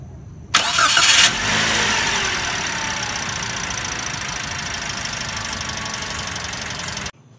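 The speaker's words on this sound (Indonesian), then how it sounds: "mesin nyala, suaranya bagaimana." A Daihatsu Sigra R manual facelift car engine cranks and fires with a loud burst, then settles into a steady, even idle that runs close and unbroken until it cuts off abruptly.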